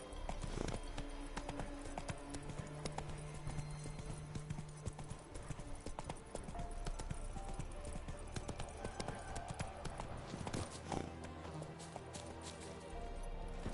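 In The Witcher 3 video game, the horse Roach gallops with fast, steady hoof clip-clops throughout, mixed with game ambience and a voice heard briefly.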